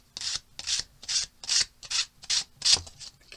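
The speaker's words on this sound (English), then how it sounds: "Just want to get some of these edges off." Paper bookmark edges are rubbed with cheap Dollar Tree sandpaper in eight steady, evenly spaced strokes, close and clear, with no talking.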